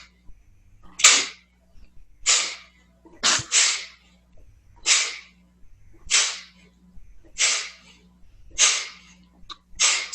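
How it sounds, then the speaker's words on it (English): Sharp, rhythmic forced nasal exhales from yogic breath work, about eight bursts spaced roughly a second apart, close and distinct, with quiet relaxed inhales between and no talking. "So that's gonna be based on a forced exhale with a relaxed inhale."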